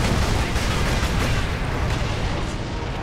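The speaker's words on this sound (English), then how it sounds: "my teammates are liberal with those grenades" Dense, continuous game-combat noise from Warhammer 40K: Space Marine, with grenade blasts and gunfire packed together at high intensity and a voice faintly mixed in.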